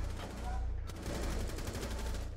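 Rapid automatic gunfire rattles through a Rainbow Six Siege ranked match, a fast even stream of loud shots beginning just under a second in and continuing to the end over a rumbling low backdrop.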